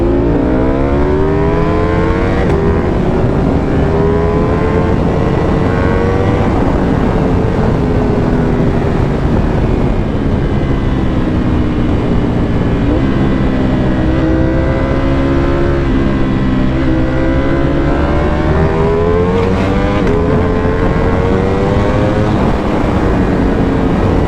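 A supercar and a superbike launch and accelerate, producing a loud, continuous engine roar whose pitch climbs steadily through several gear changes, dropping and rising again over a wind-blasted background.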